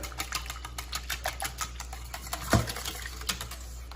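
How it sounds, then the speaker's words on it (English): Cinnamon, vanilla and almond extract are whisked together in a bowl for French toast, giving a quiet, rapid, steady tapping with one sharper knock partway through. "Cinnamon, vanilla. Almond extract. Whisk that up."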